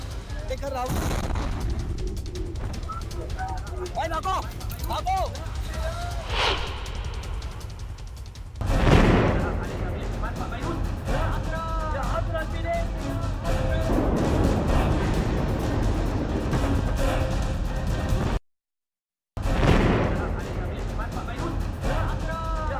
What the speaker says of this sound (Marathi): अमोनियम नायट्रेटच्या स्फोटाची दाहकता दाखवणारी ही दृश्य आपण बघणार आहोत